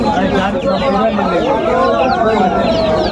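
Chickens cluck and squawk busily at a pet market on Galiff Street in Kolkata, several birds close by, with people talking over the noise.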